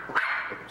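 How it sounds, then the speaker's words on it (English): A dog barks once, a short sharp yap, fairly close and clear with no talk over it. "Do not get that dog barking."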